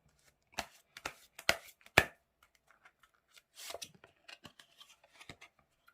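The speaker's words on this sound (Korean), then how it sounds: "BK의 조언대로 했을 때 과연 재회가 한 달 이내에 이루어질 수 있는지 여부 한번 카드 제가 새로 뽑아서 보도록 할게요" Tarot cards being drawn and shuffled for a reunion reading, giving a series of crisp snapping slaps and flicks, three or four sharp hits followed by quieter riffling and light taps, close and alone without talk.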